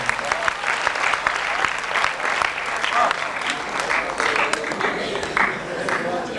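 Audience applause at a poetry recital (mushaira) fills the space as a dense, steady wash of clapping from a large indoor crowd, loud and continuous throughout.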